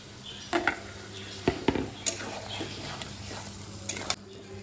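Marinated mutton dropped into hot spice masala for a Bengali mutton and potato curry, giving a low sizzle with a few sharp clinks and scrapes of a spoon against the pan, no talking.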